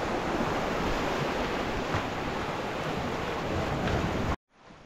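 Sea waves washing onto a beach at sunset, a loud, continuous roar of surf mixed with wind rumble that cuts off abruptly near the end.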